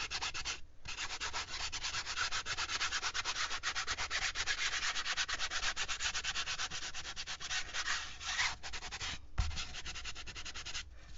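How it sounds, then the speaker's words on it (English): Sandpaper rubbed steadily over a fabric-covered journal, a continuous close scratchy rasp with quick back-and-forth strokes and two short pauses, no voices. "And again with the sandpaper."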